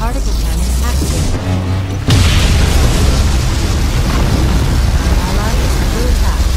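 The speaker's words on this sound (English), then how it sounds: "Allied particle cannon activated." A particle cannon superweapon fires in Command & Conquer Generals, a sudden loud boom-like blast that bursts in about two seconds in and gives way to a sustained roaring, crackling rumble, with game voices and effects underneath.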